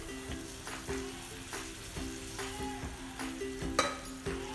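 Drumstick leaves sauté in a pan for a lentil curry, a soft steady sizzle with repeated scraping stir strokes and a few sharper clinks of the spoon against the pan.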